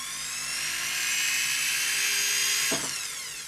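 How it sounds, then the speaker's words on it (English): Rotary burr spinning slowly against a metal bead ring to mark a drill spot, a steady high whine with a dentist-drill quality lasting about three seconds before a brief scrape and wind-down. "you're going to hold your burr over the mark. Turn it slowly and it'll give you a nice little indentation where you're going to drill."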